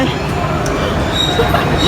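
Train noise at a station, a steady rumbling broadband wash with faint metallic clinks and squeals. Voices talk throughout over the loud, continuous sound.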